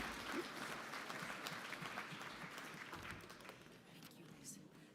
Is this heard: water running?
no